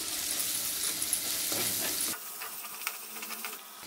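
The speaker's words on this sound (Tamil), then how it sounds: "இப்போ வெங்காயம் நல்லா வதங்கட்டுங்க." Onions frying in a pan for green peas pulao give a steady high sizzle that softens partway through, with occasional small crackles and stirring, no voices.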